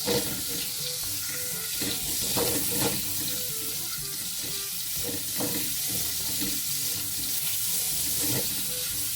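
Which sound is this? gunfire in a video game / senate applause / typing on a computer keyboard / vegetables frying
vegetables frying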